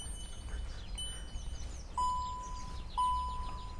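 Two soft electronic chime tones from a car's instrument cluster during a gong test run with a KINGBOLEN diagnostic tool, each a brief held note about a second apart, fairly faint over low background hum.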